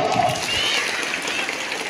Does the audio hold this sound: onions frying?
no